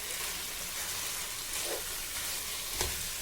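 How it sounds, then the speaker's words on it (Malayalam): Chicken sautéing in a pan over a high flame, a continuous close frying hiss with occasional stirring scrapes. "നന്നായിട്ടൊന്ന് സോട്ട് ചെയ്ത് കൊടുക്കുക. ഹൈ ഫ്ലെയിമിൽ തന്നെ വയ്ക്കണം കേട്ടോ."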